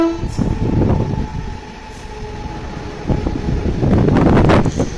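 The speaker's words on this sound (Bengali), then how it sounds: "ট্রেন গাড়িও দেখা হয়ে গেল" A train rumbles past with heavy rolling clatter that fades and swells again, mixed with gusty wind buffeting the microphone.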